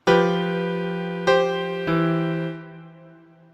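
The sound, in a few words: musical example of 2-3 suspension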